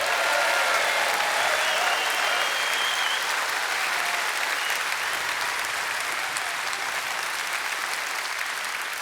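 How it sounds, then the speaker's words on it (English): Conference audience at a Reform UK national conference applauding, a dense sustained clap from a large crowd that holds steady and slowly tapers. "Give Richard a round of applause."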